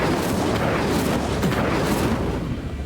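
An Incendio fire spell goes off in Hogwarts Legacy, a loud, dense roaring burst that fills the clip with continuous crackling, booming energy and no speech.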